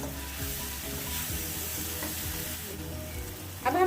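Masala and tomatoes frying in a pan for stuffed okra sabji, a steady close sizzle and crackle throughout with a sharper burst of spattering near the end.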